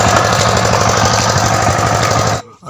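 A mini tractor engine runs loud and steady while ploughing a field, its rhythmic diesel chugging continuous and close, then cutting off abruptly near the end.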